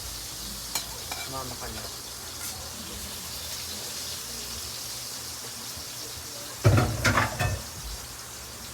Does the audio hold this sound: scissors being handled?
no